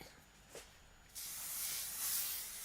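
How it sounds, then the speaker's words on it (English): A soft hiss of a spray bottle misting fabric starts partway through and keeps going steadily, fairly quiet and close. "And I don't have to spray all the way across."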